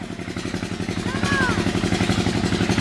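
Tubewell boring engine running nearby, a steady rhythmic mechanical chugging that continues throughout, with a faint whistling tone briefly rising over it.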